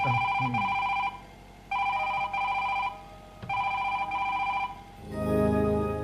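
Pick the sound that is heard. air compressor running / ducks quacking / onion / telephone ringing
telephone ringing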